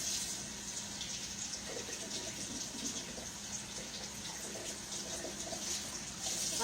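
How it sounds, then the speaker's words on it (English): Well water pours steadily from close by into an old snuff bottle used as a small flower vase, giving a continuous soft, splashy trickle with no talking. "Let's put some water in our poison bottle."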